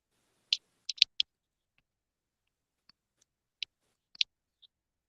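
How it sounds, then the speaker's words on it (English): Fingernails click against a hard surface in a quiet room, a rapid cluster of four or five sharp taps, then scattered single clicks and a final pair, crisp and close. "Nails. Just clicking it."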